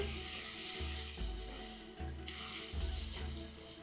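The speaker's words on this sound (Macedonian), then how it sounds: "Тука го додавам сега оризот. Промешувам" Rice tossed in hot oil in a pan, frying with a steady sizzle while a spoon stirs it in repeated scraping strokes, heard close up with no talking.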